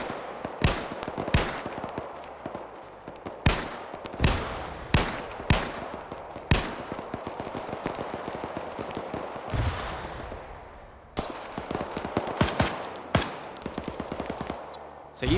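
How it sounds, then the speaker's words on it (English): Gunfire in a military shooter video game, with bursts of sharp rifle shots at a loose, irregular rhythm and some distant crackling fire between them. The shots are loud and close and carry no speech. "So you see him shooting at targets over here from the top of that dirt mound."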